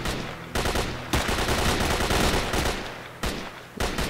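Automatic and single gunfire in STALKER: Call of Pripyat, loud sustained bursts of shots with brief gaps, heard alone with no talking.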